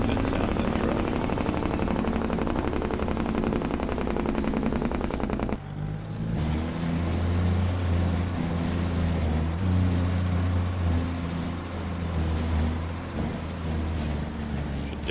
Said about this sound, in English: Such a good sound, that truck.